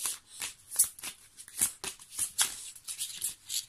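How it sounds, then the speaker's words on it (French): Tarot cards being handled and laid out during a reading, with a run of soft papery slides, flicks and shuffling rustles close up, quiet and unhurried with no talking. "Alors, on met une dernière petite carte et après pour voir."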